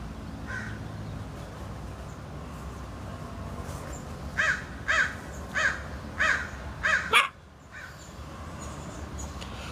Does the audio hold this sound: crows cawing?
yes